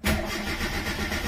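A Hyundai Verna with an ignition fault cranks without firing, the starter motor whirring in a fast, steady pulsing churn close by for just over a second.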